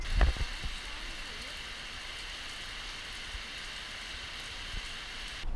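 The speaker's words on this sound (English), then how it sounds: "the rain only got worse" Steady, dense rain hissing continuously, with a few louder thumps near the start and no voices.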